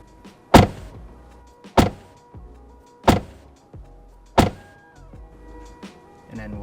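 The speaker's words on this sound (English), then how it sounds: "let's listen to the sound that the door makes when I close it" A Tesla Model 3 door shuts four times in a row, each a sharp solid thud about 1.3 seconds apart, close and loud, with faint mechanical clicks and a brief whir between slams.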